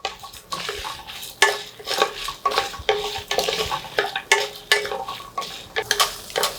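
Spices for brinjal rice dry roasting in a pan until reddish, with repeated scraping stir strokes in an uneven rhythm, close and moderately loud, with no talking.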